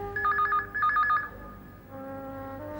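A telephone rings in a TV drama scene, giving two bursts of electronic warbling trill with a pause between them, loud and close, then stops and leaves a quiet room tone with a soft hum.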